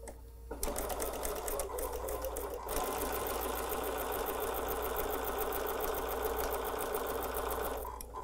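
A sewing machine stitches a fabric table runner, its needle running in a fast, even mechanical chatter that starts after a brief pause and holds steady, close and clear, before stopping near the end.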